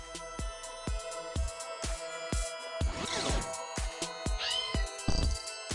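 A kitten meows repeatedly in the video game There Is No Game, short distinct cries over a sparse backdrop of clicks and light game sounds.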